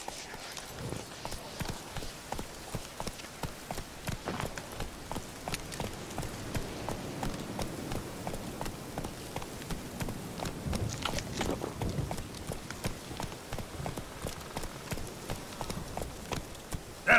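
Roach the horse gallops in The Witcher 3: Wild Hunt, with a rapid, steady clip-clop of hooves close by that runs throughout under a low, rain-like wash.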